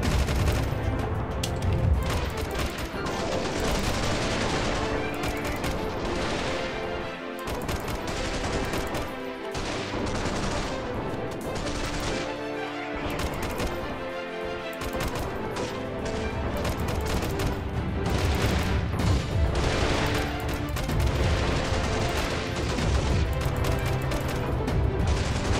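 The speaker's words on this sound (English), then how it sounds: "Oh, it just sounds like a plain assault rifle." British assault rifle fire in the video game Freeman: Guerrilla Warfare, dense bursts of rapid shots layered over continuous battle noise and explosions, loud and sustained throughout with no talking.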